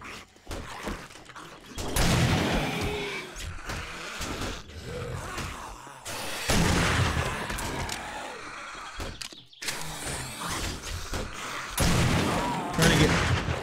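Gunfire in the video game 7 Days to Die: loud bursts of rapid shots and heavy impacts in several clusters with short gaps, dense and close, a voice faintly underneath.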